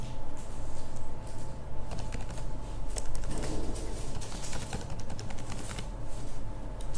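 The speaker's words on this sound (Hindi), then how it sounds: "यहाँ पर मोबाइल बाकी है वो मैं अभी यहाँ पे टाइप कर देता हूँ" Keys tapped on a computer keyboard while a mobile number is entered, a steady run of quick, light clicks close by over a constant low hum, with no talking.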